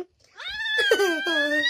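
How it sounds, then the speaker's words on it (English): A cat lets out a long, drawn-out yowling meow that bends in pitch, close and fairly loud, with a brief scuffle of movement partway through. "She's holding her cat."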